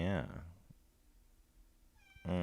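A pet cat gives two loud, close meows, one at the start and one at the end, with a quiet pause in between.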